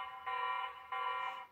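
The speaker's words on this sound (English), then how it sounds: "I can easily talk over the alarm and it's not that loud at all" A Tapo TC70 pet camera sounds its built-in alarm in two steady, even bursts of electronic tone, fairly quiet and with nothing else audible.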